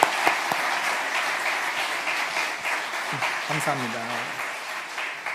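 A church congregation claps together for a missionary's wife being welcomed during a Sunday service, steady broadband applause filling the room while a voice speaks briefly over it.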